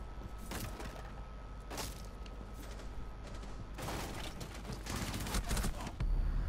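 Gunfire in the video game Rainbow Six Siege: bursts of shots crackle over a steady, noisy background, with clusters of rapid reports near the start and a denser volley toward the end.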